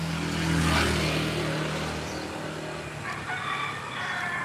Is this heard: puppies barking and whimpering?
no